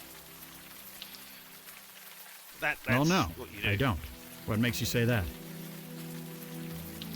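Steady rain patters continuously in the point-and-click game Unavowed, a soft hiss beneath short bursts of spoken dialogue between characters.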